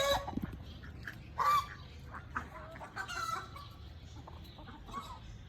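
A large Aseel rooster and other chickens cluck in a backyard aviary, with scattered short calls and a couple of louder squawks over steady low background noise.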